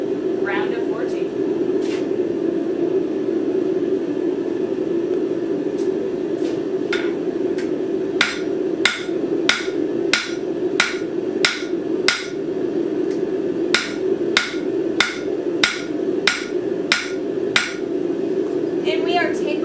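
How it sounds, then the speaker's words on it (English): Hammer blows ring out while forging a three-prong fork, a run of sharp metallic strikes in steady rhythm after a quieter start, over a constant low hum with a voice talking. "We are going to do another round of forging."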